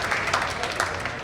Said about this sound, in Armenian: Ծափարությունները Վահանի